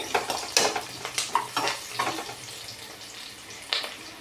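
Cashews and bay leaf frying in a pan for veg biryani, with repeated scraping and stirring clinks of a spoon against the pan over a soft, steady sizzle, close and fairly loud.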